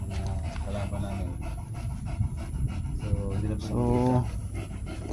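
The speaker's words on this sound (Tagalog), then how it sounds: "yun ang baboy ito na hinihingal siya kasi mainit" Pig panting hard in hot weather, rapid rhythmic breathing running steadily through the clip at close range, with someone talking over it.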